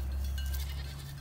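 Several of a neighbor's goats bleat faintly in the distance on a small farm, with short thin bleats over a steady low rumble of wind or background noise.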